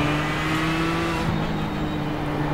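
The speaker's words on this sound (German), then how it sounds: "ihr könnt zuhören, wie das Auto so klingt" A Ford GT race car engine in iRacing drones steadily at a sustained pitch at night at Spa-Francorchamps, loud and continuous with no talking, with a brief shift partway through.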